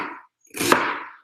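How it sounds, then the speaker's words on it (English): A fancy kitchen knife cuts food on a cutting board, with garlic being prepared nearby: a short scrape or chop, then a single sharp, close chop with a broad, ringing tail, no talking. "Watch your fingers when you're chopping, especially if you have a fancy knife like this."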